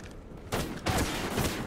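Gunfire in Call of Duty: Ghosts, a low rumble followed by two loud, dense bursts of shots close by, with no talk over them.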